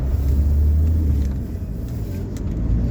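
Steady low engine rumble and road noise from inside a moving car, close and continuous with no talk.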